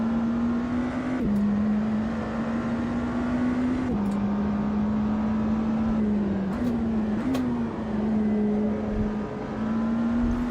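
A McLaren Senna's engine in the Automobilista 2 racing game drones steadily and loudly, holding a constant note with brief shifts and blips as gears change, with no voices over it.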